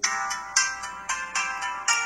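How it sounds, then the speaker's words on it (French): A ringtone plays from a Finow Q1 Android smartwatch: a bright, repeating melodic chime of short rising notes, close and clear with no talking. "là vous allez choisir les sonneries que vous voulez"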